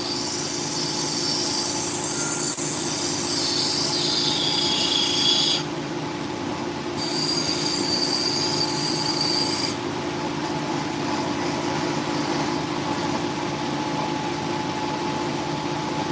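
A wonder stone cabochon being ground, with a steady, close grinding whine and a rough hum underneath that shifts in pitch as the stone is pressed and eased off. It runs continuously for the whole stretch, with no talk.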